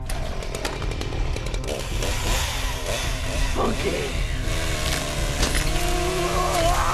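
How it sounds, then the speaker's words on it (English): A chainsaw runs loud and continuous throughout, its engine droning steadily in the foreground while a person speaks briefly over it. "Stupid chainsaw."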